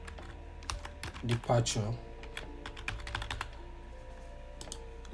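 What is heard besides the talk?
typing on a computer keyboard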